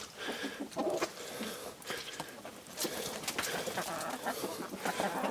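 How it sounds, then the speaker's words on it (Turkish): Broody hens settled in a coop cluck softly and irregularly, a busy close-up patter of low murmurs and short calls that continues throughout with no talk. "gene bir kurk tavuğumuz mevcut"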